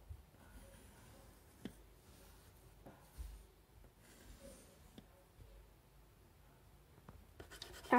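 Colored pencil drawing on paper for a three-color pencil challenge: soft, steady scratching strokes run close throughout, with a few sharp taps and a louder rustle at the end, and no talking.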